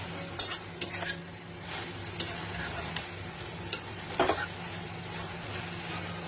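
Chicken keema and peas with garam masala are stir-fried in a pan, giving a low steady sizzle broken by sharp scattered clicks and scrapes of a spatula against the pan.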